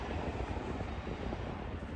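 Amtrak California Zephyr Train #5 arriving at Roseville Amtrak Station in California, a continuous low rumble and rolling rail noise, loud and close, with no speech.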